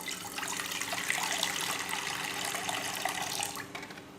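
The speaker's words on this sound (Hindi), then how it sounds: "इसमें मैं पानी ऐड कर रही हूँ।" Water is poured into a kadai while cooking namkeen gosht, a steady splashing gush of about a glassful that runs for nearly four seconds before tapering off.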